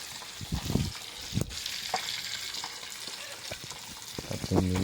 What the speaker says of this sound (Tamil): அப்படியே மீன் ஃப்ரை ஆகிட்டுருக்கு.